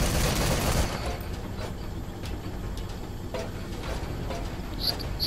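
Rapid gunfire crackles in the video game Metal Gear Solid V, a dense burst at the start that thins into scattered shots over a noisy background.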